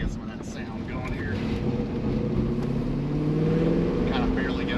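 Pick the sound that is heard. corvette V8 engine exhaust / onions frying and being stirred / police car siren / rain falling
corvette V8 engine exhaust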